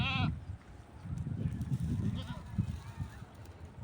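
Goats on a farm bleat in short, wavering cries, one close and loud at the start and others fainter, with quiet talking mixed in.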